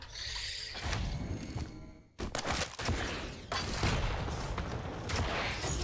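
Rocket blasts in the arena shooter Quake Champions: a series of heavy, booming explosions and thuds, with a short silent gap before one sharp hit, over a constant game background.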